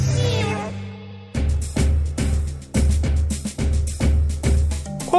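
A cartoon cat character, Félido the clever cat, meows in a string of about seven loud, close, drawn-out calls with short gaps, following a brief musical lead-in.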